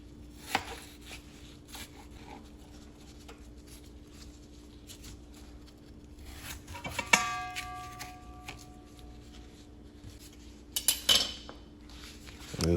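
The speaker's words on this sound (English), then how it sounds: "Yeah, just dive into my potatoes. Just cut them, cut them into pieces." A knife chops potatoes into pieces on a board, with sparse, quiet cuts and a few sharper clicks and knocks in a calm kitchen, and no talking.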